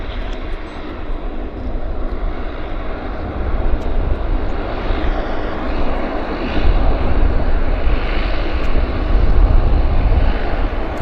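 An Airbus A321 lands at Vancouver airport with a loud, continuous jet engine roar that builds gradually over the clip, with no voices.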